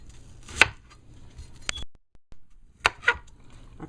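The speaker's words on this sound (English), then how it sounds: "Chop up some onion." A knife chops an onion on a board in sparse strokes, a sharp tap, a second tap, a short quiet gap, then a quick cluster of two or three cuts, close and clear.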